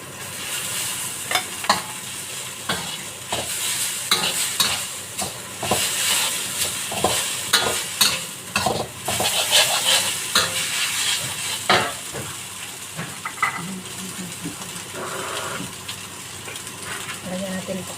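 Noodles fry with sambal in a pan and are stirred: a constant sizzle runs under repeated scraping and clinking of the utensil against the pan, close up, with occasional talking.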